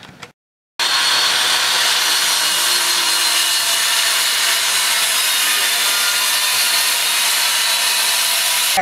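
A saw cuts through plywood for a metal-framed upholstery bench, a loud, steady rasping roar that begins after a short pause and runs unbroken to the end.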